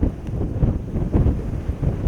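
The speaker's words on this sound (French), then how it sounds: "le caméscope bouge à cause du vent" Wind buffets a camcorder microphone outdoors, producing low, uneven rumbling gusts that pulse throughout at moderate loudness, with no talking.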